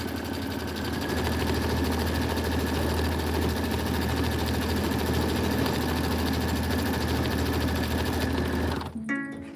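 A quilting machine stitches filler blocks in a loud, continuous mechanical whir with a fast even needle rhythm that runs unbroken for about nine seconds, then stops abruptly.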